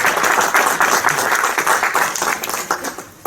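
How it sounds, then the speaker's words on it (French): Applause from a conference audience in a hall, steady dense clapping that fills the whole stretch and tapers slightly toward the end, close and fairly loud. "je vous demande d'applaudir"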